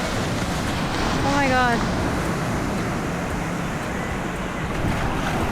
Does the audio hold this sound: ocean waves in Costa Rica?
yes